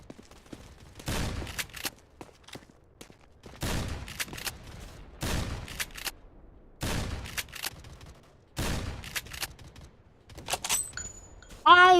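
Sniper rifle fire in the Roblox shooter Strike Warfare rings out in four or five spaced bursts, each a loud crack followed by a brief volley, with quieter game noise in between and a short electronic tone near the end.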